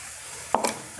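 Spiced masala for a bitter gourd dish frying in oil in a pan over low heat gives a brief, close sizzle and stirring scrape that flares for a moment and then fades back into quiet kitchen background.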